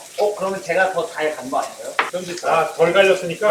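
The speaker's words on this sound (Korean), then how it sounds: "굽는 소리. 아, 이 소리부터 맛있어요." A steak sizzles in a thick frying pan, a steady crackling hiss running underneath lively conversation between several people standing close by.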